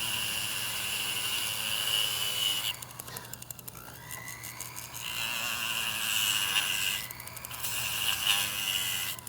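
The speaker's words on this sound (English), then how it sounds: "I'm going to cut a slot using my rotary tool and my cutoff wheel." Rotary tool with a cutoff wheel slicing a slot in steel, a high-pitched whine that drops into a gritty grinding in two separate bursts as the wheel bites in, close by.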